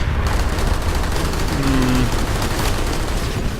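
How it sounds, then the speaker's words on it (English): Loud, dense gunfire and a grenade blast from a large-scale battle in the video game Planetside 2, with rapid shots and booms overlapping continuously throughout. "oh shit, grenade!"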